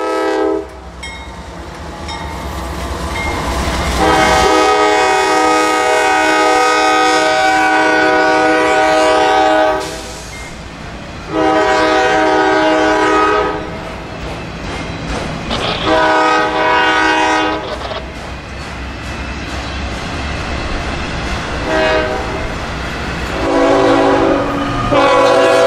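CSX local freight A764 with freshly restored CM44AC wide-cab locomotives sounds several long, loud horn blasts close by, separated by short gaps, over a steady rumble of passing rail cars.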